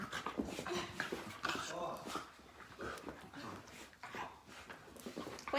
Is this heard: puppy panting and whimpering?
yes